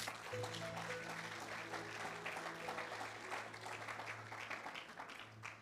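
A church congregation applauds for Jesus, steady sustained clapping filling the room at moderate distance, with a low organ or keyboard tone held underneath.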